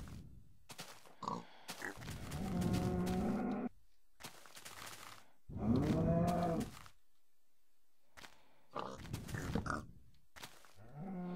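Cows in the video game Minecraft give several deep, drawn-out moos in separate bursts with pauses between them, the calls fairly close and strong and no one talking over them.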